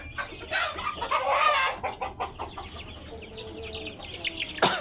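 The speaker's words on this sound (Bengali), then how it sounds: "যে স্ট্রেনটা পাহাড়ি জাতের একটা মোরগ পাহাড়ি জাতের একটা ব্রিড" A tall-legged hill-breed Laiza rooster gives clucks and short calls close by, with further faint clucks and bird sounds in the background.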